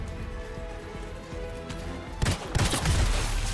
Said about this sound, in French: On va essayer le pistolet.